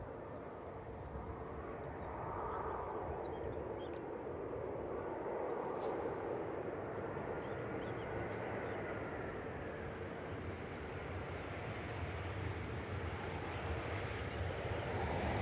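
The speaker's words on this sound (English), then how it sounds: "EasyJet 2164 from Amsterdam. This is GZWH, an A320 Classic" An easyJet Airbus A320 Classic, registration G-ZWH, arriving from Amsterdam at Manchester Airport, makes a steady broadband jet roar that holds at an even, moderate level throughout.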